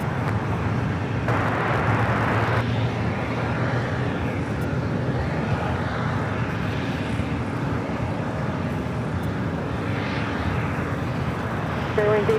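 An airliner taxis near a runway at LAX, its engines giving a steady, broad jet rumble and whine that holds at an even level throughout, with no speech over it.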